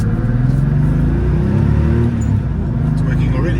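A Porsche 964 with a 3.8L engine, six-speed gearbox and lightweight flywheel pulls hard in traffic, its engine rising in a loud, continuous growl with talking over it.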